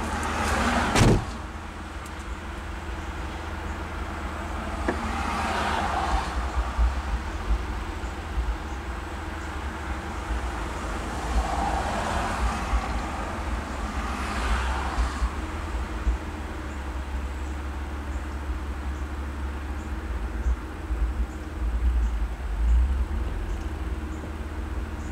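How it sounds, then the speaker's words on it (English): Mitsubishi Eclipse with a battery light, stalling and no-start fault, its engine idling as a steady low rumble for the whole stretch, with a few faint clunks and shifts in tone rising over it. "All right, here we go, car's running."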